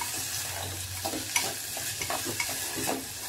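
Finely crushed mava sautéed in ghee over a low flame produces a steady close sizzle, broken by repeated soft scraping and tapping as it is stirred, with no talking.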